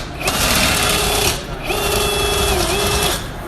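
A RIDGID FlexShaft drain cleaning machine runs in two close, loud bursts with a brief pause between, a buzzing motor drone with a rattling whir.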